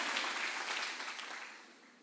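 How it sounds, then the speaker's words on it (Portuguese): A church conference congregation applauds the actors, a soft distant wash of clapping that gradually fades away over a couple of seconds. "Aplaude aí esses atores maravilhosos."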